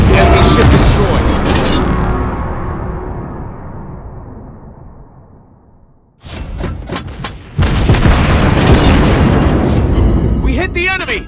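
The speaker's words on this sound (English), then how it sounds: "Hit! Nice shot! Enemy ship destroyed!" Enemy ship destroyed in a naval warship video game: a loud, heavy boom that rumbles and fades over about six seconds, followed by a sudden return of dense, loud battle rumble and blasts.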